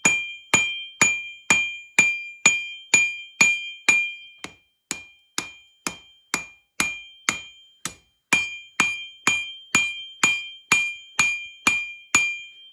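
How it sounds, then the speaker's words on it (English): Steady, evenly spaced hammer strikes ringing on a knife blade on an anvil during forging, each with a bright clang and short decay, continuing for many blows with a brief pause midway. "while you hammer on this side, the face of the anvil is establishing the bevel"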